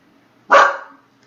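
A puppy lets out a single sharp, loud bark at people walking past outside the door, then quickly falls quiet.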